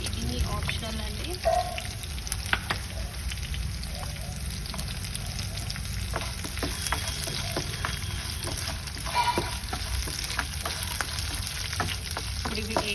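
Cashews and spices frying in a pan for a tomato pachadi with red chilli: a steady, close sizzle with scattered ticks and soft stirring scrapes throughout.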